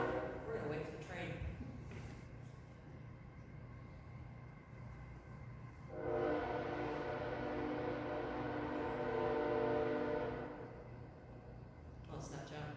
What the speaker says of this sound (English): we're going to wait for the train.